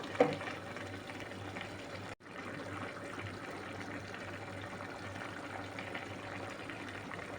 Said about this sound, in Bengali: আর ঢাকনা দিব না ঢাকনা দিলে শাকের কালার নষ্ট হয়ে যাবে এভাবে রান্না করব শাক সিদ্ধ হওয়া পর্যন্ত